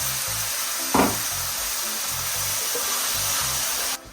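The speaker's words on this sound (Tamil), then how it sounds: "ஸோ தக்காளி பழத்தையும் வந்து இதோட போட்டு இப்படி வந்து வதங்க விட்டுக்கொள்கிறேன்." Tomatoes and onions sautéing in a pan for chickpea curry, a steady hissing sizzle with one brief louder burst near the start, close and continuous, then cutting off abruptly.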